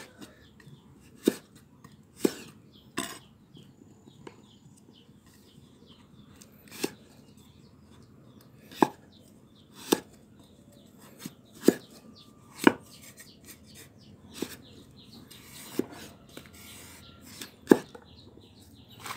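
A knife chops food in a kitchen with sharp, separate strikes spaced a second or two apart, fairly close, over a faint background with occasional soft birdlike chirps.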